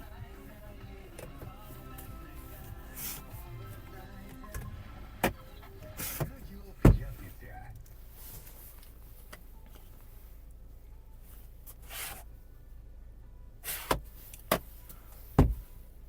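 A 2.0 Hyundai Tucson's power window motor hums steadily, with a few clunks and thuds of the glass stopping or doors moving inside the cabin.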